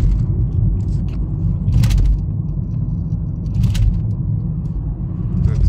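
A car drives along a road, its engine and tyres making a steady, loud low rumble heard from close by, while someone talks over it.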